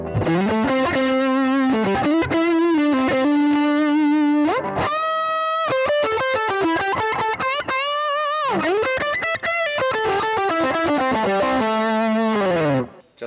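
A distorted electric guitar through an Axe-FX II preset plays a boogie-style lead line, sustained notes and quick runs with bends, loud and continuous with no talking.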